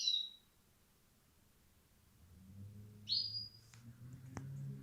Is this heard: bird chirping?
yes